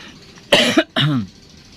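Two sharp, harsh coughs close up, one right after the other, with quiet in between and after.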